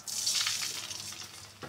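A splash of water pours into a hot frying pan of onions in mustard oil, making a loud rushing hiss that fades into bubbling sizzle, close and continuous.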